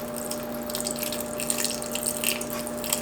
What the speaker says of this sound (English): And add water as needed.